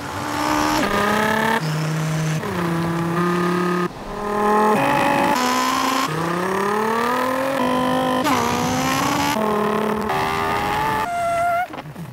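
In an electric car commercial, a passenger's voice imitates a car engine with a run of sung revs and gear-change sweeps, each pitch climbing and then dropping, loud and close.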